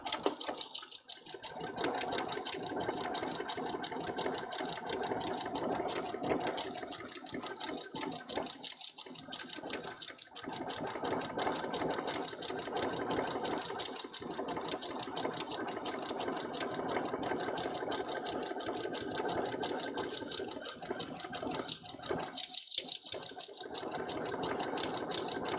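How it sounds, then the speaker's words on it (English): Sewing machine stitching through layered fabric for a cosplay costume, a steady continuous whirring hum that runs almost unbroken for the whole stretch with only a few brief pauses, close and fairly loud, no talking. "Now there's more fabric for the machine to sew through, so it should have an easier time gripping it"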